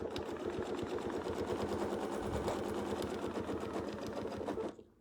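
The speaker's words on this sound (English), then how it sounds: "Just sew across." A sewing machine stitches straight across quilt fabric in one continuous, rapid, even run of needle strikes. It is close and steady, then stops abruptly near the end, with no talk.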